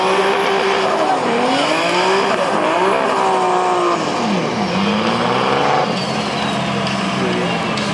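A drag racing car launches and accelerates at a Lithuanian drag championship round in Kazlu Ruda, its loud engine note rising and dropping through gears with tyre squeal, while an announcer talks over it.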